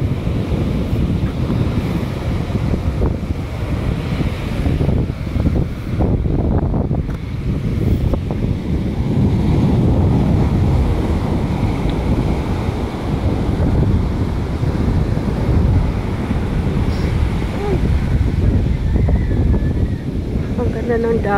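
Rough sea waves surge and crash in a continuous low roar with gusting wind buffeting the microphone, loud and close. People talk now and then over the surf.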